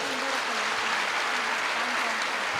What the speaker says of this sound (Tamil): நீங்க உண்மையாகவே ஒரு கைத்தட்டல் எனக்காக அல்ல, உங்களுடைய அதிர்ஷ்டத்திற்காக ஒரு தடவை கைத்தட்டிக்கோங்க